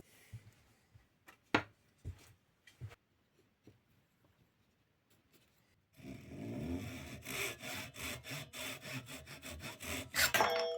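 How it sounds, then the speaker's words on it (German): Scattered light scrapes and taps at first, then a steady run of rhythmic back-and-forth hand saw strokes cutting through wood, close and fairly loud. "Ich freue mich jedes Mal, wenn ich mit der Säge arbeite, auf den Sound."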